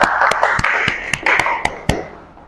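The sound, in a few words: applause for the students after their presentation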